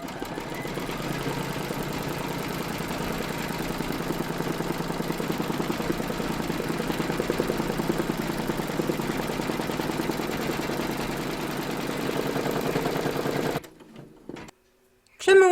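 Embroidery machine steadily stitching an appliqué outline in a hoop for a large Statue of Liberty design, a continuous mechanical whirr with rapid needle chatter, close and even, cutting off near the end.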